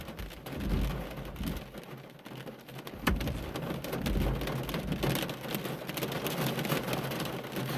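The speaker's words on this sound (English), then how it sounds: "the rain is coming through" Rain pours steadily as a storm rolls into Adelaide from the Adelaide Hills, a continuous hiss of drops on surfaces with a sharp crack partway through.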